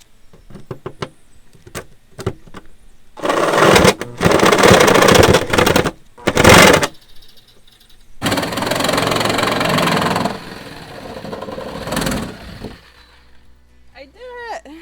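A power saw cuts through a van's metal roof for a Maxxair fan, loud rattling bursts of buzzing cutting broken by short pauses and sharp taps, with a voice briefly heard near the end.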